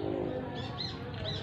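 A bird gives a couple of faint, high chirps at a rural hut in a banana garden, heard over a steady outdoor background hum.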